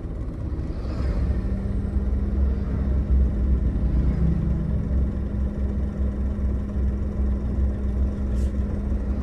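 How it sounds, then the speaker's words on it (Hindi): A manual car creeps slowly forward as the clutch is released with a touch of accelerator, its engine holding a low, even rumble and hum for several seconds, with no one speaking. "थोड़ा सा एक्सीलेटर ले लिया मैंने, जिससे धीरे धीरे गाड़ी बढ़ गई"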